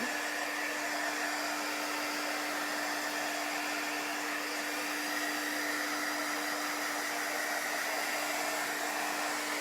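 A hair dryer runs continuously on a chalk paste project, a steady airy whoosh with an even, sustained hum that does not change.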